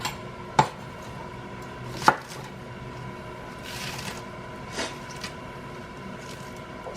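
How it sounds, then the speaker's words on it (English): Chili peppers snapped by hand while making larb moo, a spicy Lao pork salad: two sharp, crisp snaps close by, spaced about a second and a half apart, over a low steady kitchen background. "Snap pepper in there."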